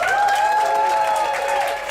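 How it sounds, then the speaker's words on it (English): Audience applause at a live comedy show in a Bali bar, a steady dense wash of clapping held at a constant level for two seconds before easing slightly at the end. "Nikki, one more applause for her."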